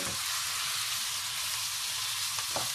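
Garlic and pork fry in a pan for fried rice with preserved olive, giving a steady close sizzle with soft crackle throughout and no one talking.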